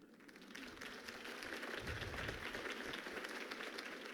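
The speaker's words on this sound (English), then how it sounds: "If only Mr. Wayne, my campaign's largest backer, could have heard that applause" A crowd bursts into applause after a political campaign speech in the Batman Telltale Series game, steady clapping that swells and holds for several seconds at moderate distance.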